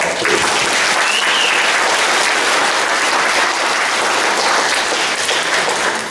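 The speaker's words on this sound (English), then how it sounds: "just give them a big round of applause, please." Dense, sustained applause from a large audience at a senior citizens' appreciation day performance, honouring staff and volunteers, loud and steady throughout with no speech on top.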